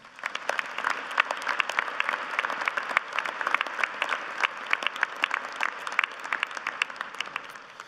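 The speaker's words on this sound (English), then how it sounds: "Let's give them all a big round of applause." Audience applause fills a university commencement ceremony in spring 2023 at the University of Idaho, a sustained wash of many hands clapping at moderate distance, with sharper individual claps standing out over the steady crowd noise.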